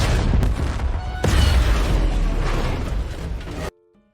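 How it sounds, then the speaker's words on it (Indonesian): Plane crashing and exploding in a science-fiction film about a human war against AI: a loud, dense roar of blasts and debris that swells to a bigger burst partway through, sustained, then cuts off abruptly to near silence. "Akhirnya pesawat itu pun jatuh dan meledak tepat sebelum pesawat Nomad melepaskan misilnya."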